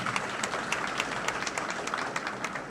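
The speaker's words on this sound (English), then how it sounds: "have a large applause for your family and your children" An audience claps steadily at a graduation ceremony, an even wash of applause from a crowd, fairly distant and moderately quiet, with no talking.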